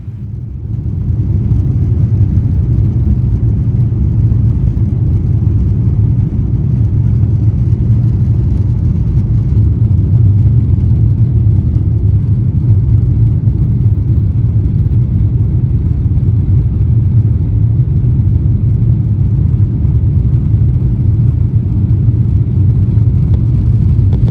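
Two Rolls-Royce Trent XWB-97 turbofans on a Cathay Pacific Airbus A350-1000 drive it down the runway on takeoff, heard from inside the cabin as a loud, steady, deep roar and rumble that holds unbroken throughout.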